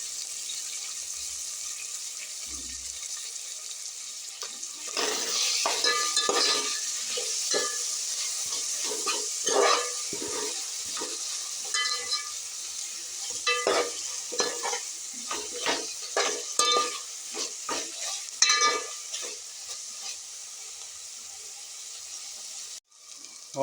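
Chopped coriander and mint sautéing in a pan for vegetable biryani, with soft sizzling under repeated scraping and stirring strokes, irregular clatters of the spoon, and a brief sharp knock near the end.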